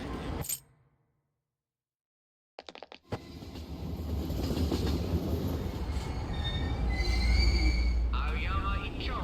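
A subway train in Persona 5 Royal rumbles along the track after a brief quiet stretch, loud and steady with wheel squeals and rattling carriage noise building toward the end.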